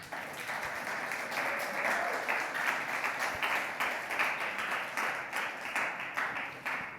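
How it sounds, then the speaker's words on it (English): Sustained applause from a large audience at a Broadcom tech event, steady and full throughout, fairly loud with a dense wash of many hands clapping. "Give them a big applause."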